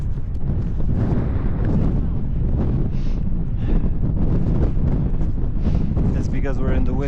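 Strong, continuous wind buffets the microphone high on a mountain near the summit of Gran Paradiso, a loud roaring rumble throughout with voices partly audible under it.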